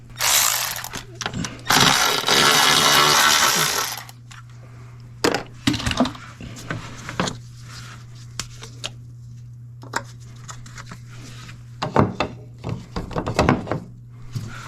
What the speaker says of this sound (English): So now I'm gonna pry the engine cover up, just like that.